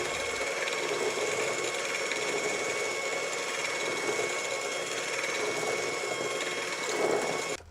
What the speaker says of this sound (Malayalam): മഞ്ഞക്കരു ബീറ്റ് ചെയ്തെടുക്കണം.